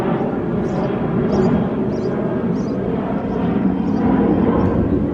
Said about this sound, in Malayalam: അവിടെ സെക്കൻഡിലും ഫ്ലൈറ്റുകൾ പറന്നുകൊണ്ടിരിക്കുകയാണ്